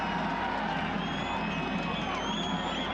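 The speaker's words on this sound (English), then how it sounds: "Crowd really animated behind this now." Crowd in a football stadium at an AFC Cup match between East Riffa and Al Riffa in Bahrain, a loud continuous roar of cheering and shouts with whistles rising above it.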